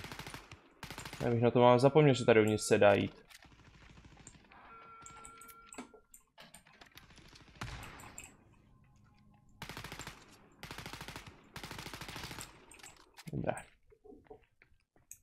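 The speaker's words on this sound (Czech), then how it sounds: "někdo na mě ještě střílí." Gunfire from the Wolfenstein: Youngblood video game, a loud rapid burst early on followed by scattered weaker shots, with someone talking over much of it.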